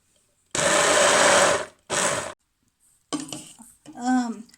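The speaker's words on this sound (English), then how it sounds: "Add some broth and blend it." A kitchen blender purees cooked vegetables with broth for Spanish-style red beans in two loud whirring bursts, a longer one followed by a short one, then some clattering.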